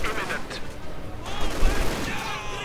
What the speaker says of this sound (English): Another MG42 opening up.